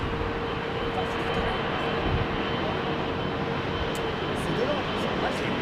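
An Etihad jet airliner moves at Heathrow Airport during evening departures, a steady broad engine roar that holds level throughout, with a faint whine riding on top and a voice talking underneath.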